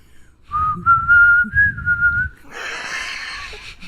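A man whistles a short, steady tune, a clear pure melody held over a soft instrumental backing, then gives way to a burst of crowd cheering and applause at a live show.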